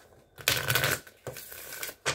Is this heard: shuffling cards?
yes